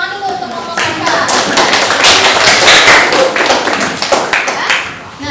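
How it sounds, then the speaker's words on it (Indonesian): A class of students applauds a team after its performance, with dense, steady clapping near and loud, mixed with children's voices and chatter throughout. "Tepuk tangan dulu untuk kelompok macan."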